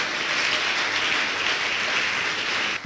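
A church congregation claps in praise to the Lord during a worship service, a steady, dense round of applause filling the room without a break until it thins at the very end.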